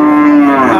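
A cow at a cattle market in Jashore gives a single loud, close, sustained moo lasting under a second, a steady droning bellow with no voices over it.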